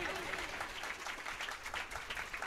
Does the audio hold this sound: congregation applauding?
yes